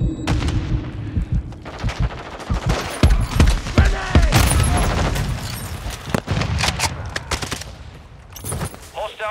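Rapid gunfire in Call of Duty: Modern Warfare II, loud automatic bursts and single shots crackling in clusters with booming impacts, dense and close, with brief game voice callouts mixed in.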